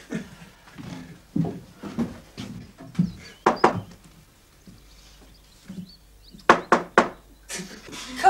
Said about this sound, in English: Do you mind knocking?